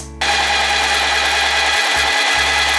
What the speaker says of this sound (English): I have this pink sewing machine.